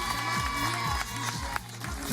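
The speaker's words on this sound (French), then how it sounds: "prends le temps de profiter des applaudissements" Audience applause and cheering in a radio studio, a crowd's clapping and whoops mixed with music tones and footsteps, moderately loud and busy.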